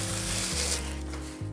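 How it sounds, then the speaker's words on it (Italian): Frozen french fries fry in oil on a magnetic cooker, giving a steady, close, dense sizzle with a low electrical hum beneath. "Friggeremo a freddo le patatine direttamente dal freezer."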